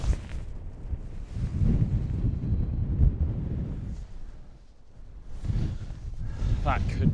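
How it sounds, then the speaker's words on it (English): Strong wind buffets the microphone on a golf course, heavy low rumbling gusts that rise and fall, with a person talking in between. "Straight back into the teeth of the wind."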